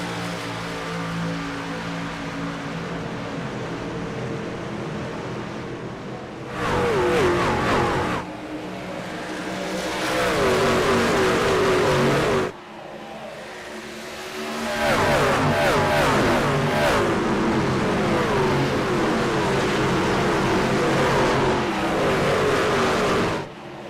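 Race trucks in a Davidson Builders Truck Series race at Dover roar back to full throttle on a green flag restart, a loud dense engine drone that dips briefly then surges again as the pack accelerates past.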